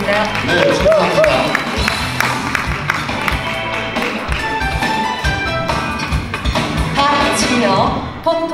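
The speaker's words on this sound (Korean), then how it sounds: "포토 제니스타 뜨거운 박수 부탁드리겠습니다." Audience applause at the 2021 Korea Best Queen Model award ceremony, steady clapping and crowd noise throughout with music and an announcer's voice over it.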